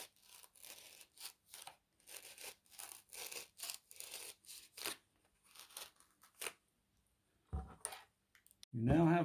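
Scissors cut through a plastic sheet for a homemade face visor, a series of short rasping snips and crunches in bursts at close range, with a voice speaking over it.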